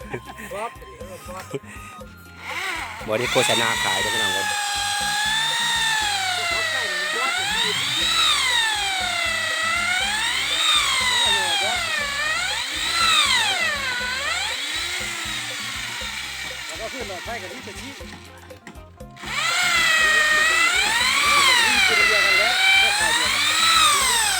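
A loud power drill whines continuously while building a bridge, its pitch rising and falling as it bores, with a brief pause before it starts up again.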